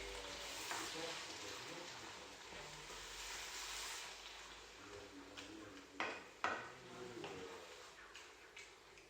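Stuffed bell pepper filling gets stirred in a frying pan, a steady sizzle with a few distinct utensil scrapes and knocks against the pan toward the end; a voice speaks briefly.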